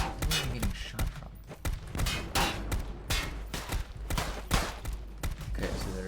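Video game gunfire aimed at the player, a fusillade of sharp shots in irregular bursts, moderately loud and continuing throughout.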